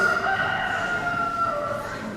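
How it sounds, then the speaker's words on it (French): A rooster crows in a long, sustained call, loud and steady, with the strained tonal quality of a cock's crow. "Au loin, le chant des coqs annonça la fin de la nuit."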